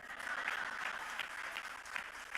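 An audience claps steadily at a summit for a couple of seconds, dense and even with faint pulses, heard at a modest distance with no talking over it.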